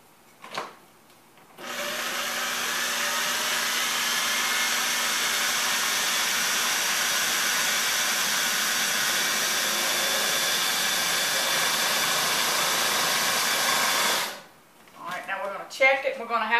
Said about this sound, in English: So you put it in the processor and you're going to blend it until it's smooth